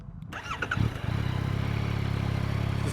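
A 2025 Yamaha MT-09 motorcycle engine cranks briefly, catches with a rising rev and settles into a steady, fairly quiet idle with an even throb, heard up close.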